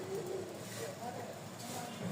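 Pigeons at a market stall coo in a low, continuous rolling burble while someone talks over them.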